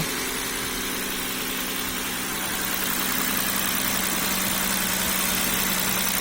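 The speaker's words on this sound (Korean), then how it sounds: "엔진 소리 좋고" A Hyundai Lambda 3.3 car engine idles steadily with a smooth, even hum after replacement of its oil control valve and six ignition coils, close by, no voices.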